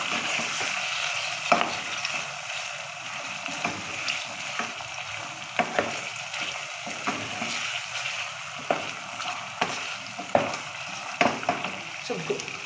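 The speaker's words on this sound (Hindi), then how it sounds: "टमाटर को डाल के अब हम इसकी कर लेते हैं भुनाई" Tomatoes frying with softened carrots and mixed vegetables in a pan for a Chinese-style mix veg dish, giving a steady close sizzle broken by repeated spatula scrapes and stirring knocks, with no talk.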